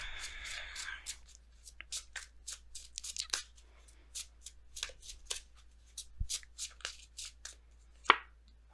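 Tarot cards are handled and shuffled up close in a quiet room, giving a flurry of soft riffling at the start, then a run of separate light card slaps and flicks, with one sharper snap near the end.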